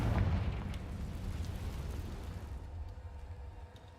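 A Confringo fire spell from the Hogwarts Legacy video game erupts in a loud, rumbling blast that fades slowly over a few seconds, with no talk over it.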